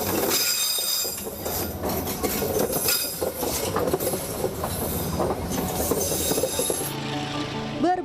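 A train speeds along a railway track that runs through a busy market in Surabaya, loud and close, with a steady clatter of wheels on rails, metallic squeal and clinks, fading toward the end.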